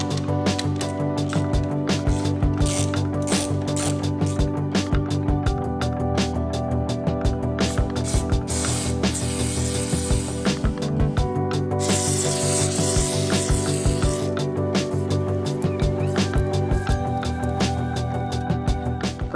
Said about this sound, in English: we're going to clean a little bit and oil our chain.